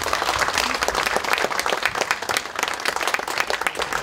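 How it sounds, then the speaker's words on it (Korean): Party lawmakers at a Democratic Party caucus meeting give encouraging applause to floor leader Woo Won-shik, a dense, loud burst of clapping from a crowded room sustained throughout. "우리 원내대표께 우원식 원내대표께 힘내라고 격려의 박수 한번 주시겠습니까?"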